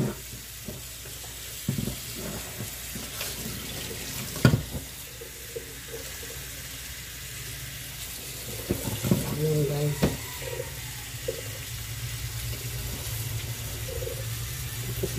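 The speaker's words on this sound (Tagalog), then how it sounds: "At na naman siyang didiligan." Water is poured over sprouting beans in a container, with a steady trickling wash and a few louder splashes and clunks of the vessel, close by and moderate in level with no talking.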